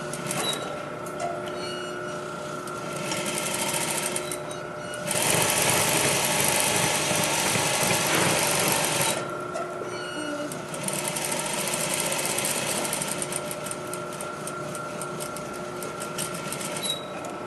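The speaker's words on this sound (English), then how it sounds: "I can take my 2 threads, give them a little tug to the back, turn the machine on, and stitch." A sewing machine runs a French seam in short bursts, a steady motor hum with rapid needle clatter that surges louder for several seconds in the middle before settling back to a lighter running whir.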